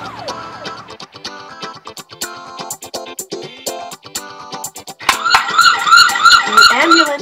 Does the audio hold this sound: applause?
no